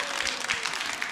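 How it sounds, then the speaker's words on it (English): Brief burst of audience applause from a live tech presentation crowd, steady broadband clapping filling the whole moment without speech. "Thank you for that applause"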